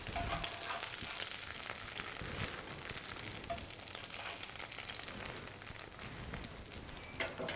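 A pan of spices and juices left from cooking halibut sizzles and crackles steadily, a dense continuous frying hiss with scattered pops, fairly quiet and close, with no talking.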